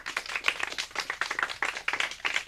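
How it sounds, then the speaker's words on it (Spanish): Crowd at a summer canoeing course event claps for the children's parents, a steady, fairly quiet patter of many hands lasting a couple of seconds with no voices over it. "les pedimos un fuerte aplauso para los padres"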